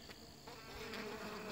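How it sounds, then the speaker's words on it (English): Honeybees buzz inside an Apimaye beehive near the feeder, a steady, faint, close hum of many wings with no voices. "And here's some bees coming up"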